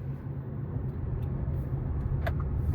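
Small Wuling Binguo electric car making a tight U-turn during a turning radius test, heard as a steady low road and tyre rumble with faint cabin hum and a brief click near the end.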